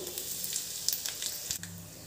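Oil tempering with urad dal and a pinch of asafoetida for garlic chutney, giving a quiet, steady sizzle with a few faint crackles over two seconds.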